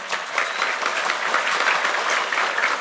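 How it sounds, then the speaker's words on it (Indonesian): Steady, dense audience applause fills the whole stretch, a large crowd clapping continuously at an even level without pauses at a live religious talk event. "Tepuk tangan untuk NU."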